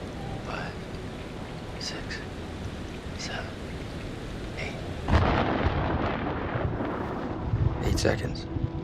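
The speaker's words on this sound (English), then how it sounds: "The storm's 8 miles away." Thunderstorm in the horror game Man of Medan: steady rain hiss with a loud rolling thunderclap breaking in partway, rumbling on beneath faint background voices.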